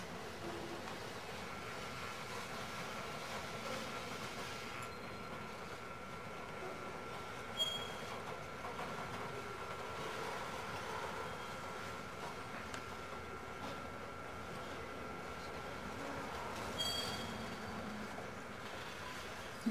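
Two locomotives roll past on a railway track near a switch, a steady low rumble with faint metallic clanks and a couple of brief squeals, moderately distant and continuous.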